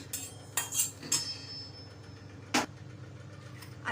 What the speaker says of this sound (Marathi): अर्धा मिनिटभर धने छान भाजून घेतले आहेत आता परातीत काढून घेते मी